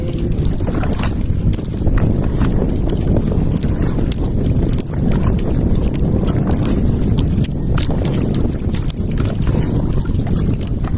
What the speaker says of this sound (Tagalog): Lagi na lang malakas, lagi ang hangin.